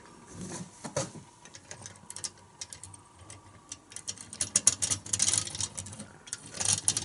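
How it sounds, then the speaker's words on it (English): A hand crank turns the gears of a Meccano zoopraxiscope picture disc projector, giving close, faint, rapid ticking and clicking in an uneven mechanical rhythm that grows busier toward the end, with no talk. "If I turn the crank"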